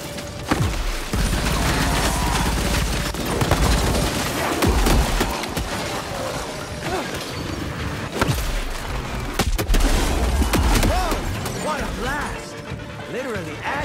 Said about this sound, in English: That reason is a fully loaded shotgun.